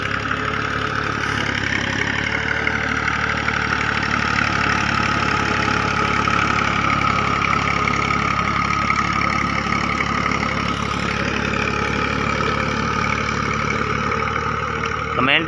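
A Massey Ferguson tractor engine runs at a steady idle, a loud, continuous close drone with a rough knocking pulse that holds unbroken for the whole stretch.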